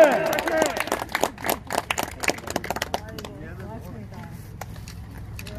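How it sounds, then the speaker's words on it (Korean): A crowd gathered at a politician's visit to a former president's birthplace in Gumi claps in scattered, uneven bursts that fade out, with voices talking over and after the clapping. "자, 다 같이 박수 한번 쳐줍시다."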